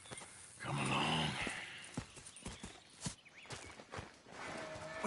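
Horses in Red Dead Redemption 2 clop along with scattered hoof thuds, and a brief neigh-like rumble rises early, over faint background ambience.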